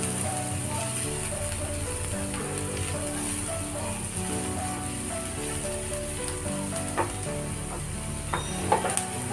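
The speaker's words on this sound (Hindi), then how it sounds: "प्याज ज़्यादा ब्राउन नहीं करना है थोड़ा बहुत सटे करना है" Onions sauté in butter in a pan for a chicken snack, giving a soft, steady sizzle with occasional stirring clicks, close by and under faint background music.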